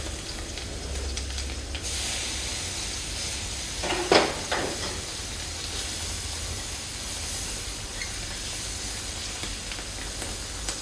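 Sausages and bacon for an English breakfast frying in a pan: a steady, close broadband sizzle and hiss throughout, with a brief clink of utensils near the middle and no talking.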